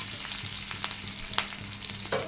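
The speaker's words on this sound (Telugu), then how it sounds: "ఇప్పుడు ఇది మిక్సీ చేసుకున్న తర్వాత కొంచెం పోపు పెట్టుకుందాం" Cumin, curry leaves, garlic and dried chilies sizzle in hot oil as a tempering for gongura chutney, a steady close crackle with a few sharper pops and stirring clinks.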